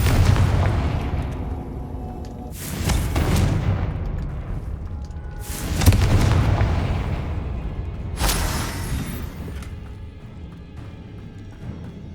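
Three heavy blasting-spell explosions from Confringo in Hogwarts Legacy, each a loud booming burst followed by a long rumbling decay, spaced a few seconds apart.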